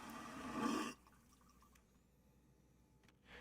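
A toilet flush in the lavatory of a Concorde airliner in the Microsoft Flight Simulator 2020 game, a loud rushing burst of water lasting about a second that then cuts off into quiet cabin hum, with a faint swell returning at the end.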